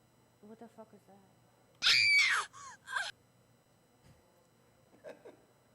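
A loud, shrill scream sound effect bursts out in a few sharp wavering shrieks, preceded by quiet voices, with soft speech returning faintly afterward.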